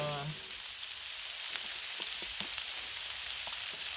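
Onions and peppers sizzle steadily on a well-seasoned Blackstone griddle greased with bacon fat, a continuous close frying hiss with small scattered pops and ticks.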